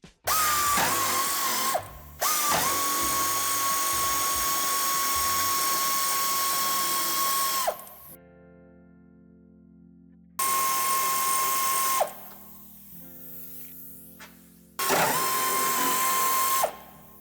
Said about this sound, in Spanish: Será necesario quitar este tornillo y aflojaremos este.